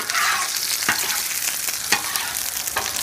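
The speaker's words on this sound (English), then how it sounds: "This is how we cook frozen fries on the Blackstone." Frozen fries fry on a Blackstone griddle with a steady, close hiss of sizzling oil, broken by a few sharp scraping or stirring clicks spaced about a second apart.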